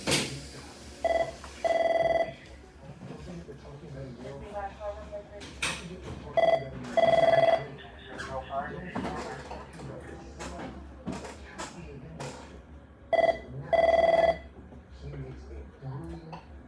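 An old-style telephone bell rings in repeated short bursts, about three rings spread out, with people talking in between.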